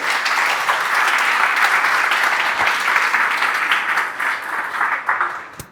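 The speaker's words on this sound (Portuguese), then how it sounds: "Aplauda a palavra do Senhor, amém?" A church congregation applauds after a sermon, loud, dense sustained clapping with a slight swell and a few louder claps as it tapers at the end.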